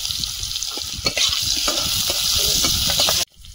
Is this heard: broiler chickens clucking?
no